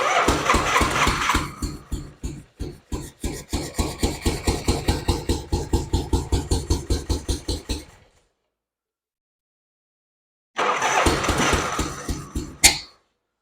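A 1965 Harley-Davidson FL Panhead motorcycle engine, run with no fuel tank, cranks and fires in a loud, rhythmic thumping run that cuts out abruptly. After a silence it catches again for a short loud burst and then stops.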